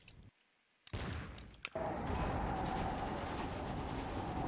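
Musket volleys in the Napoleonic-era strategy game Empire: Total War, with sharp cracks and a rolling fusillade bursting out of near silence, then settling into a dense, continuous battle roar.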